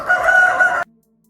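A rooster crows once, loud and close by, in a city yard kept against code, the call cutting off sharply and leaving near silence after.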